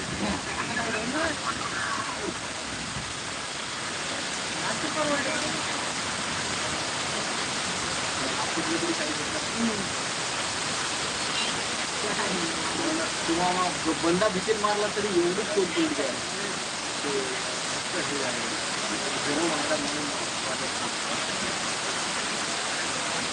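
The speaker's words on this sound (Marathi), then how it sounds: "शिरपूर मध्ये पाऊस चालू आहे" Rain falls steadily in Shirpur, a dense, even roar that continues throughout while someone speaks over it.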